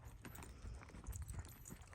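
A horse's hooves clip-clop in quick, soft thuds during groundwork, faint and close, with no voices.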